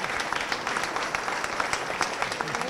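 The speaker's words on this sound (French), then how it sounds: "on peut l'applaudir s'il vous plaît" Audience applause for a young girl named Flore on stage at a country music festival in Évreux, a steady, fairly soft wash of many clapping hands.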